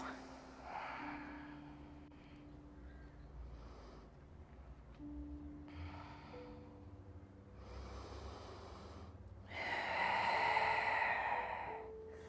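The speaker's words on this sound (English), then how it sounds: "Let the breath go. It's really important. Make it audible." Long, audible breaths drawn in and let out during a Pilates exercise, several slow breathy swells rising and fading over a quiet room with faint low hum, the last exhale loudest.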